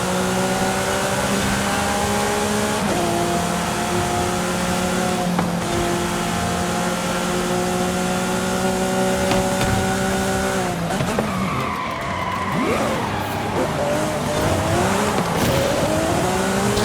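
A Lamborghini Aventador SVJ in Forza Horizon 5 drives at speed with a steady high engine drone, then brakes hard with squealing tires and shifting revs.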